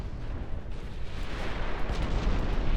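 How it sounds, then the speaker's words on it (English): Torpedo striking a battleship in the naval video game Ultimate Admiral Dreadnoughts, heard as a low rumbling explosive roar with crackling bursts, steady and moderately loud throughout. "We might be looking at a torpedo hit on this battleship here."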